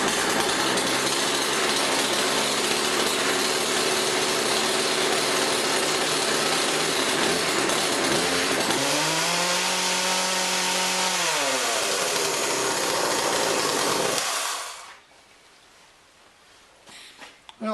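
A Poulan 3816 chainsaw idles loudly and steadily at half choke, close by, with a brief rise and fall in engine pitch midway before it cuts off abruptly near the end.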